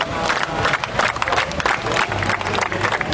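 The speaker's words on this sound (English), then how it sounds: "That is the applause for the marshals." A large crowd at a motor racing circuit applauds the race marshals, with sustained clapping and cheering that stays loud and dense throughout.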